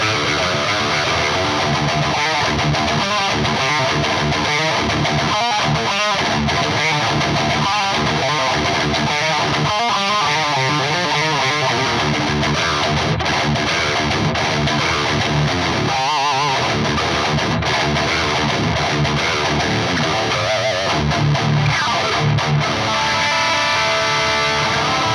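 Electric guitar played through a Soldano SLO100 amp plugin and Neural DSP patches, with distorted, driven tones: rhythmic chugging chords and picked phrases, loud and continuous, without talk.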